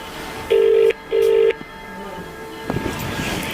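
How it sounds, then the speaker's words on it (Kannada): A telephone rings twice in short electronic bursts, followed by quiet room noise and a soft clunk. "ಆಕಿದ ಫೋನ್ ಬಂತ"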